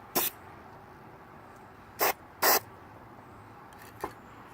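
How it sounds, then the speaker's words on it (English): Several short, sharp hisses from an aerosol spray paint can, separated by pauses, with one brief final puff, close by in a quiet room. "I'm gonna carefully spray this in here"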